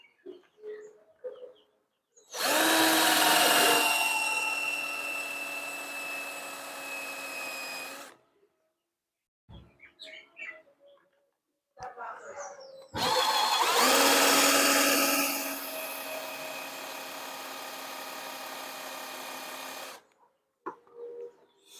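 A power drill with a bit presses into a motorcycle helmet's shell in two long, loud whining bursts of about six and seven seconds, separated by quiet gaps with faint handling clicks, close up and without speech.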